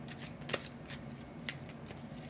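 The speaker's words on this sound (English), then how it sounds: "We'll shuffle the discard." A deck of cards being shuffled during a solo tabletop card game, a quick papery riffle with soft flicks and taps, close and fairly quiet with no talk over it.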